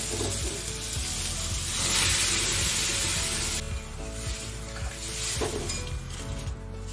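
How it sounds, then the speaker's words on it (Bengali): Pre-boiled spinach and red lentils stirred into a hot sizzling pan, steady frying hiss with scraping stirs and light utensil clinks throughout, close and fairly loud, no talking. "পালং শাক আর মুসুর ডাল আগে থেকে আমি সেদ্ধ করে রেখে দিয়েছিলাম। এবার এটা আমি এতে মিশিয়ে দেবো।"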